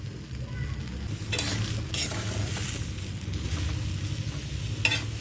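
Vegetables being stirred in a cooking pot with no oil, giving a close scraping and sizzling sound with a few louder stir strokes over a steady background hiss.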